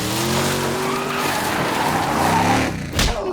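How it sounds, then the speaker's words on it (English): A car skids to a stop with a loud, sustained tire squeal and engine noise, ending in a short sharp burst of sound, with no talking over it. "Leo, stop the goddamn car"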